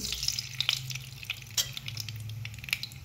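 Mustard seeds frying in hot oil in a kadhai give a continuous close sizzle, with sharp crackling pops scattered irregularly throughout; no voices.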